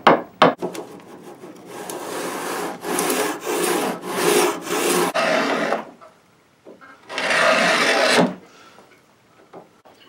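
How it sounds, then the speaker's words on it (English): Slow, scraping wood-carving strokes, a gouge working through a flintlock gun stock in long rasping passes with short pauses between them, close and fairly loud. "now I'm just taking a gouge and working that out really slow"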